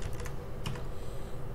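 PHP code is typed on a computer keyboard in close, quick bursts of key clicks with brief pauses, alone and with no talk.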